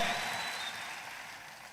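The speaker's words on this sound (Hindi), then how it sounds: "इससे ज्यादा और तालियां होनी चाहिए" A brief burst of audience applause at a large anniversary celebration event, many hands clapping at once, fading steadily toward the end.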